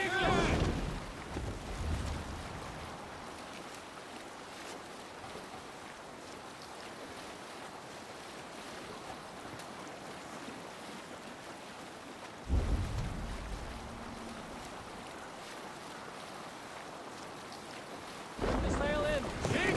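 A Viking longship under sail on open sea in Assassin's Creed Valhalla: steady rushing wind and wave wash run throughout, with louder surges of water near the middle and at the end.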